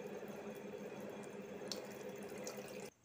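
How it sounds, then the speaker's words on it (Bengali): Water pours steadily into a pot for making orange tea, a faint, even splashing stream that stops abruptly near the end. "এরপর একটি পাত্রের মধ্যে জল নেব"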